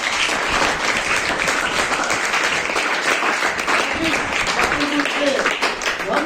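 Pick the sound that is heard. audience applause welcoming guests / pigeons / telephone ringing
audience applause welcoming guests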